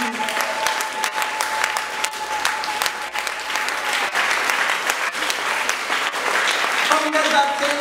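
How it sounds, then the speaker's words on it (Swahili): A sermon audience in a church claps for Jesus, a dense sustained burst of applause filling the room for several seconds, loud and continuous with a faint tonal hum underneath. "Pigie Bwana Yesu makofi. Piga makofi mengi."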